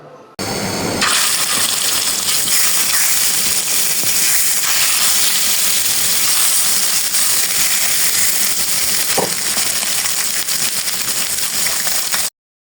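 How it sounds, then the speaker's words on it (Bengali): Fish pieces deep-frying in hot oil in a wok, a loud, steady crackling hiss running almost the whole time with a few brief pops, no talking. "দেখো এদিকে প্রথমে মাছগুলো আমি সুন্দর করে কড়া করে ভেজে নিচ্ছি"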